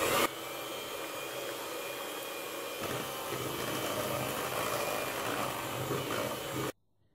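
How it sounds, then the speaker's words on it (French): An electric mixer whips egg whites in a home kitchen, giving a steady, loud motor whir that runs for about six seconds with a slight change in pitch partway through, then cuts off abruptly. "Je vais monter les blancs en neige."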